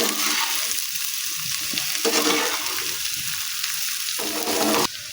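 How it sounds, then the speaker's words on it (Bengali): Potato with drumstick flowers and salt frying in a pan, a steady loud sizzle with stirring scrapes, broken by brief pauses and shifts in intensity, no talk. "নুনটা দিয়ে ভালো করে মিশিয়ে ভেজে নিয়েছি"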